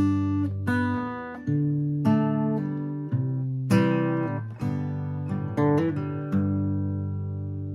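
Acoustic guitar plays a short country tag line in D, alternating an open D root bass note with pinched strings; clear plucked notes ring out in a loose rhythm, close and alone with no talking.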